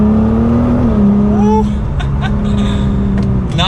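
A 2019 Nissan GT-R Track Edition drops down a gear, the loud engine tone sliding and then settling under road noise, with someone talking over it.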